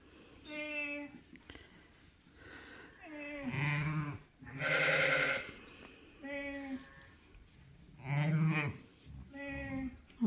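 A ewe bleats repeatedly during lambing, loud and close, with harmonic, wavering cries at irregular intervals and quieter rustling and movement between calls.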